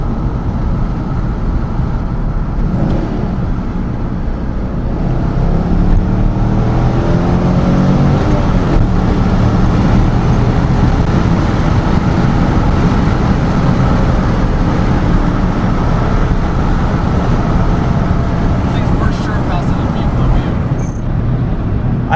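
A wrecked Chevrolet C5 Corvette that is overheating drives sideways in second gear, its engine a loud, steady roar heard from inside the car while someone talks excitedly over it.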